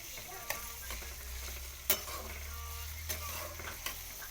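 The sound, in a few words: stirring onions frying in a pan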